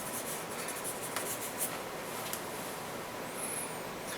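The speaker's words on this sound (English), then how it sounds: "Now I'm actually drawing weird vein type activity of the marble." Pencil drawing marble veins on paper, a steady soft scratchy rubbing with a few brief sharper strokes, close and quiet throughout with no voices.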